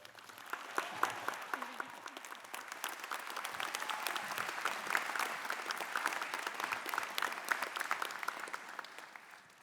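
Audience applause at a Massey University graduation ceremony in Manawatū, sustained and even, swelling slightly in the middle and tapering toward the end, heard from within the hall.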